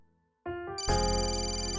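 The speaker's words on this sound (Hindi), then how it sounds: "मिस्टर दास का फोन है, मेरे न्यू कंपनी के HR हेड।" An electronic ringtone starts after a brief quiet moment, a bright melodic tone that swells and keeps ringing loudly.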